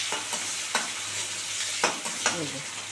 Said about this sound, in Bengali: এবারে পেঁয়াজটা ফোড়না দিয়ে দিচ্ছি